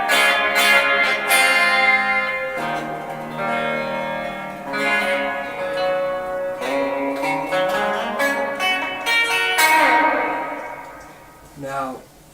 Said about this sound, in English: Just the reverb.